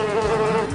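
A fly buzzes steadily and close, a loud continuous droning whine lasting under a second with no voices.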